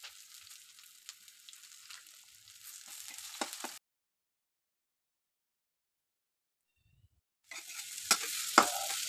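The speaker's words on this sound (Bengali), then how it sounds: "এখানে তেলে আমি একটু জিরা দিয়ে দিয়েছি, দিয়ে আমি এখানে আলু ভর্তাটুকু ভালো করে ভেজে নেব।" Mashed potato frying in oil with cumin seeds: a steady sizzle with scraping stir strokes, loud and close, which cuts out to near silence midway and then returns just as strongly.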